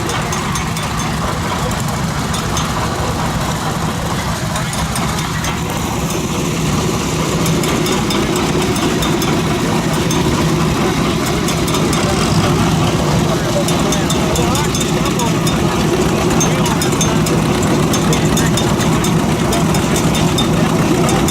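Heavy, laboring drone of a John Deere tractor engine pulling a one-bottom plow up a small hill, running loud and steady throughout at close range.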